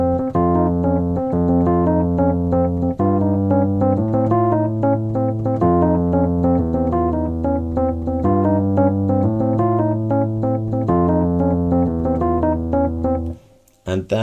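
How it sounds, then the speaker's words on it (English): Electric piano plays the chords and bass line of a song in a steady repeating pattern, loud and close, until it stops near the end, with no voices. "I'm going to play everything using an electric piano sound."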